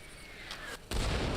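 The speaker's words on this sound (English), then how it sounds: "Oh my god, the mortars are menacing." Mortar fire in the video game ARMA: a sharp, loud boom lands partway through and leaves dense rumbling noise trailing after it, with a fainter thump shortly before it.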